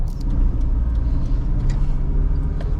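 A Daewoo Lanos with a 1.6 engine pulls away for an acceleration run, giving a loud, steady engine rumble and road noise that continue throughout with no talking.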